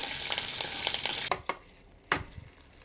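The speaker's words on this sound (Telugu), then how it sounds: "ఇప్పుడు దీంట్లోకి తాలింపు వేసేద్దాం" Tempering spices with asafoetida sizzle in hot oil for a carrot roti pachadi, a steady loud fry hiss with a few sharp crackles and spoon taps, easing after a clatter midway.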